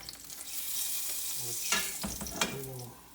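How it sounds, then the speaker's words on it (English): Garlic frying in olive oil in a pan, a steady loud hissing sizzle with a few stirring scrapes and clinks, no voices. "we're just going to cook down the spinach, so a little olive oil and some garlic"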